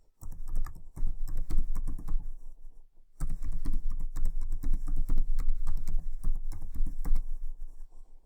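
Rapid typing on a computer keyboard as a website address is entered, dense close clatter of keystrokes in two long runs split by a brief pause, with no talking.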